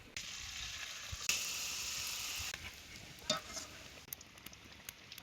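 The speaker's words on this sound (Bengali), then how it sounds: "তেল গরম হয়ে গেছেন, পিঠে দিয়ে দিম।" Malpua batter drops into hot oil for frying sweet pancakes, a sharp sizzle burst that fades into quieter crackling and faint spatula scrapes, close and fairly soft.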